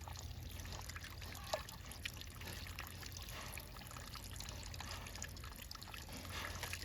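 Pigs drinking from a cold-water spigot and messing with the flow, blowing bubbles in it, giving a steady close trickle and splash of running water with a few small knocks and nobody talking.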